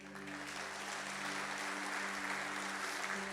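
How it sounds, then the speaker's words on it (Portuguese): Church congregation applauding in a sustained, even wash of clapping that fills the whole stretch, with a steady low hum underneath and no voices standing out. "Você pode aplaudir o Senhor?"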